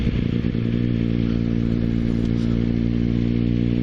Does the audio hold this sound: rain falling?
no